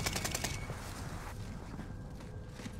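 Rapid gunfire bursts in a video game tourney match, dense overlapping shots loud at first and continuing under a busy mix of game effects and footsteps.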